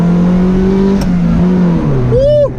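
A turbocharged car running 11 psi of boost accelerates at full throttle in Mexico: a loud, close engine drone climbs steadily, then ends in a brief rising whistle.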